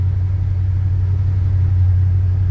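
Old Chevy C10 pickup, a 1978 or 1984 truck, idling after weeks parked in freezing East Tennessee weather: a steady, loud low engine rumble that holds even throughout, with no voices.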